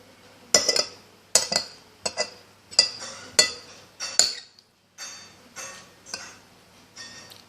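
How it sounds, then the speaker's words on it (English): Metal fork clinking against a plate while being dipped in hot sauce and ketchup, about six sharp bright clinks in steady rhythm, then several fainter taps, close and clear. "The fork. I dip it with the hot sauce and ketchup."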